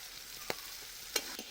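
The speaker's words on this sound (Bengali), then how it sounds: "আলুগুলা অল্প ভাজা হয়ে গেছে," Chunks of potato seasoned with salt and turmeric fry in a pan with a steady, close sizzle, broken by two or three sharp scrapes of a stirring utensil.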